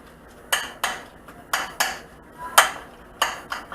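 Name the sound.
mixing apple pancake batter in a bowl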